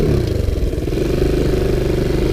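A Sunl 110cc ATV with a suspected slipping clutch revs loudly and close, its small engine droning with a rough, pulsing clatter that holds steady throughout.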